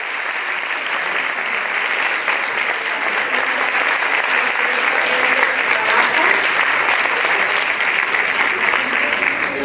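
An audience at a social work faculty event in Mexico gives loud, sustained applause, a dense continuous wash of clapping with no talk over it.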